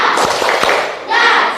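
A class of children does a rhythmic spirit clap: a few sharp, close claps come early, then their voices rise in a brief group shout.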